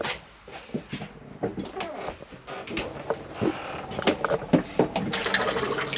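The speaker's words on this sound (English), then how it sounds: "So if you press and hold, you'll be able to flush the toilet." Fresh-water flush of a 2014 Elddis Signature 195 caravan toilet, triggered by a press-and-hold button: a close, splashy rush of running water with clunks and gurgles building over several seconds, no voices.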